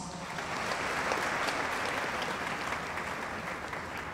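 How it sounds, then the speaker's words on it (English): A crowd at a launch event for a national service corps breaks into sustained applause after a presentation, a thick, even wash of clapping that swells slightly and holds to the end. "Another round of applause"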